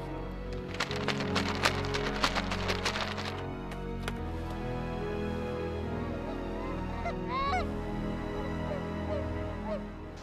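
Flock of geese honking as they fly in to land against a west wind during a Minnesota goose hunt, an outdoor field with a constant calling chorus throughout, with a burst of sharp cracks early on.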